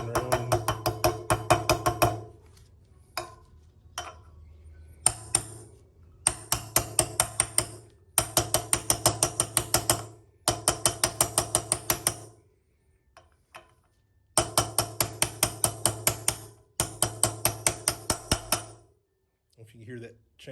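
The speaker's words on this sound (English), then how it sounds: "that's that bearing seated against that shoulder in there" Rhythmic bursts of sharp metallic hammer taps drive a bearing into a DRZ400 motorcycle housing, loud and close, in repeated runs with brief pauses between groups.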